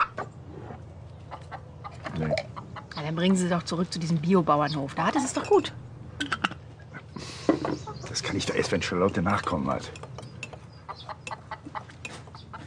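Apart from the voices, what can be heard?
chicken clucking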